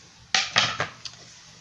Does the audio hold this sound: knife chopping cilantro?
yes